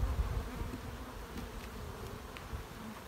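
Angry honey bees buzz around an opened hive, a dense, agitated droning swarm with individual bees whining past close by, steady and moderately loud.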